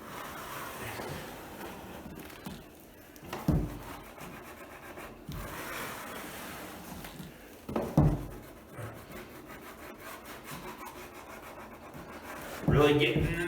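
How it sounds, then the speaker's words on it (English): A putty knife scraping old paint off wooden floorboards along the slats, heard as gritty, rasping strokes under a steady background hum, with a few sharper scrapes and knocks standing out. "I'm gonna scrape it all down to the bottom."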